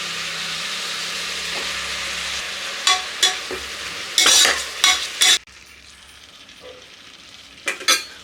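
Chopped tomatoes fry in oil for methi pulao (menthya bath), giving a steady close sizzle broken by several scraping stirs of a spoon against the pan, then a quieter, thinner hiss near the end.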